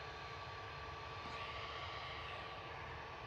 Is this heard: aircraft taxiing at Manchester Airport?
yes